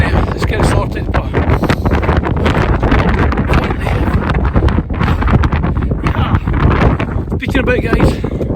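Strong wind buffets the microphone on a winter camping hillside in the Lake District, a constant loud roaring rush with gusts, while a person talks over it.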